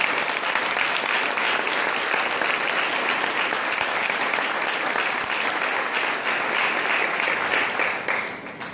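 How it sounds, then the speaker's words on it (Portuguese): A church congregation at an Easter service applauds in a continuous, dense wash of clapping that holds steady and then begins to thin and fade near the end. "Só aqueles que creem, aplaudam, por favor"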